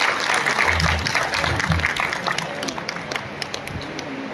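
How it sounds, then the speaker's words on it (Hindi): Audience applause at a felicitation ceremony honoring SSC and HSC toppers of the Memon community, a steady roomful of clapping that holds loud throughout, with some low murmur beneath. "तालियों के साथ इस्तकबाल करें।"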